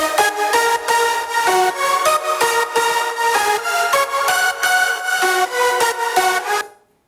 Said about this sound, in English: and then we have the lead sound.